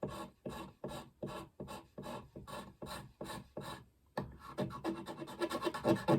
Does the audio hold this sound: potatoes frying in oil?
no